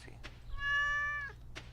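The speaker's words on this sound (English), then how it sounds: "Kitty. I love you, kitty." A cat in the farming game Stardew Valley gives a single clear, drawn-out meow with a steady tone, near and loud, between faint soft clicks from gameplay.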